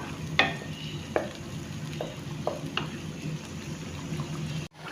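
A spoon stirs and scrapes through biryani masala of ground tomatoes frying in a pot, with a steady close sizzle broken by several distinct scraping strokes.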